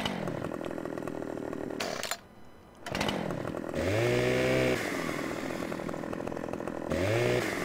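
A chainsaw in Farming Simulator 15 drones steadily, revving up and down in repeated surges with one short pause, loud and close with no talk over it.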